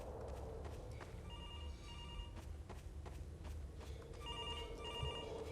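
Telephone ringing in a Garry's Mod horror map, with repeated electronic bell-like rings in short bursts alongside footsteps, a little distant and faint.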